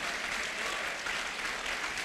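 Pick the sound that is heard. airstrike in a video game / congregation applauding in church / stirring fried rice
congregation applauding in church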